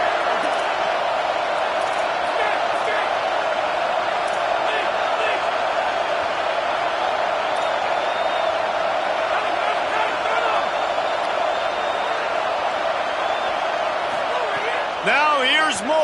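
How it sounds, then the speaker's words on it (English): A football stadium crowd roars on third down behind the defense, a loud continuous wall of cheering that holds through the whole stretch, with an announcer talking over it. "Decibels rising as the crowd gets behind this defense on 3rd down."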